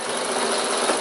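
A sewing machine stitching fabric over a D-ring on a piped bag, a fast, even motor whir with rapid needle clatter heard up close for a brief moment.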